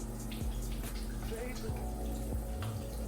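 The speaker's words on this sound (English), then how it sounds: "First up, we are going to wash our hands." Hands being washed under a running tap at a bathroom sink, a steady splashing water hiss close by with occasional faint clinks.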